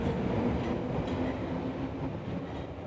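A train rumbles steadily with a low clattering of rail cars and a faint sustained squeal, arriving at a station as a sound effect, fairly loud throughout with no voices.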